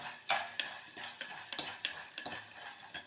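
Black chickpeas fry in hot oil with sharp irregular crackles and pops, several distinct bursts over a few seconds, close and fairly quiet, with no one talking.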